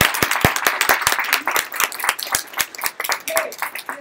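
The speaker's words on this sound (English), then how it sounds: "One more round of applause for the volunteer Googlers" Scattered applause for volunteer Googlers at a student final project presentation event, with distinct individual claps ringing out clearly and loosely, some voices murmuring underneath.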